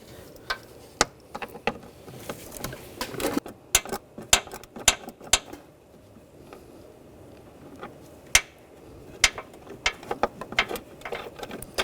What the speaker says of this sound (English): Use a 8mm socket. Take this bolt out.